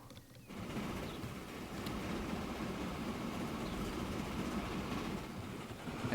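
In the Transport Fever 2 game, a train rumbles in at steady volume with a continuous mechanical rolling drone, after a brief quieter start.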